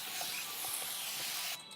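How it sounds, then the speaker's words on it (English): A spray bottle misting water onto natural 4C hair during a wash day routine, a steady close hiss with faint rhythmic pumps that cuts off abruptly near the end. "I spray my hair really good with water"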